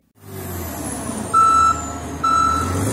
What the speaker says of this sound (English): the beeping of vehicles backing up